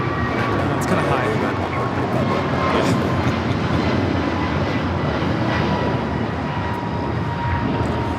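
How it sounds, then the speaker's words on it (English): An American Airlines Airbus A321neo taking off at Los Angeles International Airport bound for Lihue, a loud continuous broadband jet engine roar held steady throughout, heard from nearby at the spotting position. "119 taking off to Lihue on the A321neo"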